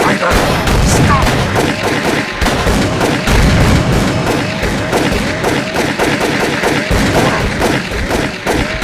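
Rapid, close gunfire in the video game DayZ, with repeated sharp cracks and bursts coming in irregular volleys, loud and continuous throughout.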